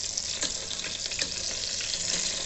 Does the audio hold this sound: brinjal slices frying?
yes